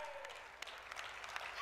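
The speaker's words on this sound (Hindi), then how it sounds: "चलो मैं भी ताली बजा देता हूं" An audience claps continuously at a religious discourse on the Kalki katha, a dense, even patter of many hands that holds steady throughout, fairly faint and diffuse.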